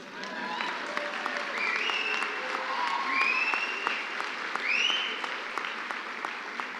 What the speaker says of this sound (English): And it's all right to clap.